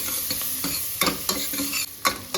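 Chopped small onions and whole dried red chillies frying in hot oil for a soup tempering, a close sizzle broken by the sharp scrapes and taps of stirring.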